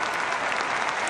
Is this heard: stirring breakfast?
no